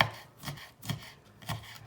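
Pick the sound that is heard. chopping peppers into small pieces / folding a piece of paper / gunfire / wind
chopping peppers into small pieces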